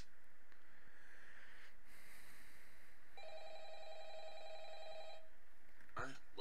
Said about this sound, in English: Do I go back to the phone? Maybe. Oh, yep. Yep. And the ringing began.